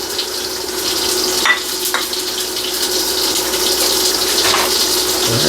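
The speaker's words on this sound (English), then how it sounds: "We're going to just put our bacon in because now's a good time to do it." Bacon is added to a pot of simmering broth with herbs, giving a steady bubbling, sizzling wash with a few soft splashes and clinks, close and moderately loud.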